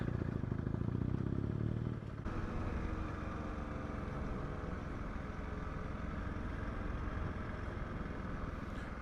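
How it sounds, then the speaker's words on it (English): Honda CRF 300 Rally motorcycle riding through a caravan park, a steady close engine drone with a rougher buzz in the first two seconds, then a constant mid-pitched hum throughout. "We've now ridden all around the caravan park."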